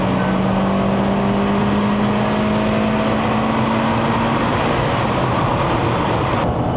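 A 2014 Proton Perdana 2.4 car engine revs as it accelerates, a loud continuous drone with a rising tone heard from inside the cabin, climbing toward high revs.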